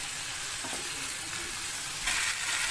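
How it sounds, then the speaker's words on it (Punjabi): Okra and onions stir-fry in a hot pan with a dense, continuous sizzle and a few soft stirring scrapes, heard up close with a brief louder surge near the end. "ਭਿੰਡੀ ਨੂੰ ਪਿਆਜ਼ਾਂ ਦੇ ਵਿੱਚ ਵਧੀਆ ਤਰੀਕੇ ਨਾਲ ਮਿਕਸ ਕਰ ਦੇਣਾ ਹੈ"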